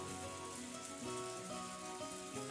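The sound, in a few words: wind and rain sound effect in visual novel Umineko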